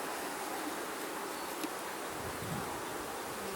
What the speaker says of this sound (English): there's a ton of bees in here